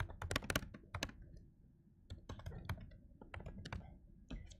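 Rapid clicking keystrokes on a computer keyboard, typed in irregular bursts with short pauses between, close and fairly quiet with no talking.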